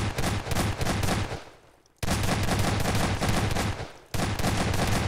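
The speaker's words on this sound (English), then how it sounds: "And this is a much better shotgun turret." A shotgun turret in Garry's Mod letting off loud, dense volleys of rapid blasts in two long bursts split by brief silences, close, harsh and sustained, with no voices.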